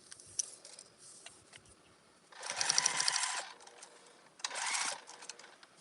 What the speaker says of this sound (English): I just want to finish sewing these darts